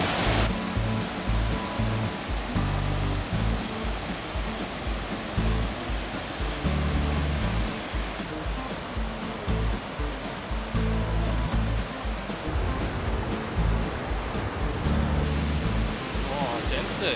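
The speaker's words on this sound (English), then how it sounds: "You can see a bit more of the waterfall." England's longest waterfall at Cow Green, a steady loud rush of falling water heard close by from a rocky path near a bridge, continuous broadband roar with no talk over it.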